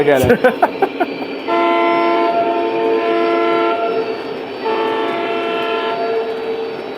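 A model train whistle, Southern Pacific style, sounds in two sustained blasts, loud and near, preceded by a short burst of clattering noise.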